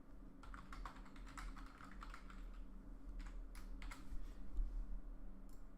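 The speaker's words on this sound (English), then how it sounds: "I need to type this out." Fast typing on a computer keyboard at a desk, with a steady run of close, crisp key clicks in irregular bursts and brief pauses over a low background hum.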